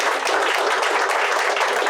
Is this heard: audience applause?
yes